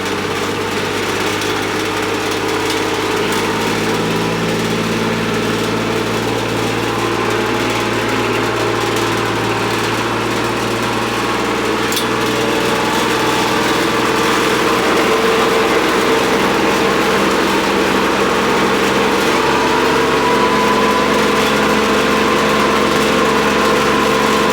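Kubota RTV 900 utility vehicle from the 2000s in medium gear and four-wheel drive, with a loud, close engine droning steadily throughout and a slight rise in pitch as it pulls along, with no voices.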